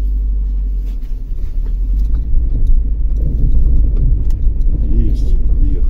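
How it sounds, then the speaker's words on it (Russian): A car climbs an icy village hill, its engine rumbling low and steady while tires churn, the loud drone swelling slightly toward the end with someone talking over it. "В эту горочку я подъеду или нет от Иваныча"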